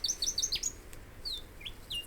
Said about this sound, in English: The noisy scrub bird is small and solidly built, but can fly only short distances.